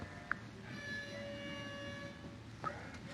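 Two short electronic air-horn honks from a Blue Iris Android app ring out over a steady background hum, one early and one near the end, each brief and fairly faint.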